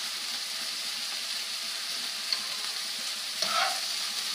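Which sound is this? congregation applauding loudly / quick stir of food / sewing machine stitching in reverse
quick stir of food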